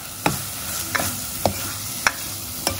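Spices being stirred in hot oil for soto Betawi, with five distinct spatula scrapes against the pan spaced roughly half a second apart over a low, steady sizzle.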